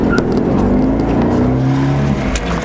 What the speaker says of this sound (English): We'll do a little acceleration for you.